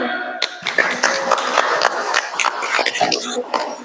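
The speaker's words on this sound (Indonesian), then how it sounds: "tepuk tangan buat Mbak Nayo." Pupils in an online fourth-grade class clap for a classmate, a burst of sharp, uneven claps with scattered taps that continues throughout, fairly close and lively.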